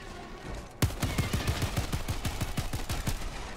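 Rapid automatic gunfire in Helldivers 2 bursts out suddenly after a short lull, a fast run of sharp repeated shots that keeps going to the end, loud and close.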